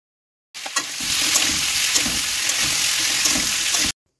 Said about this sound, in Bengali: এই সব সবজির সাথে এগুলো ভেজে নিতে হবে।